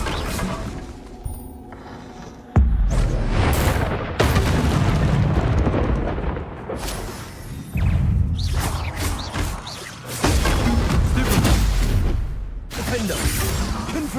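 Repeated Confringo fire-spell blasts in the Hogwarts Legacy video game: loud booming explosions and crashing impacts in bursts across a wizard duel, with spell-casting voices and combat effects layered throughout.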